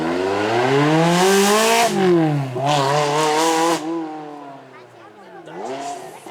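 A manual Ferrari 360 V8 howls through its exhaust at a supercar event, loud and close, rising through gears with sharp shifts between pulls before backing off and revving again.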